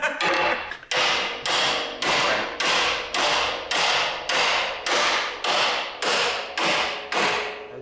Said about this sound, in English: And now, you just beat it with a hammer.